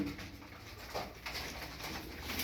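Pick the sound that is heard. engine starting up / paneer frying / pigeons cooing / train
pigeons cooing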